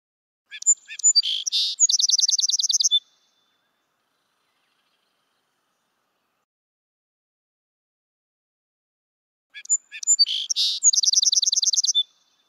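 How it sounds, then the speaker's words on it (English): A song sparrow's song rings out twice, a few quick introductory notes leading into a buzzy trill, with a long silent gap between the two phrases. "Our last generalist is the song sparrow."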